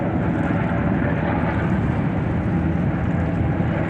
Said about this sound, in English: That helicopter is actually touching the water. That's a Black Hawk.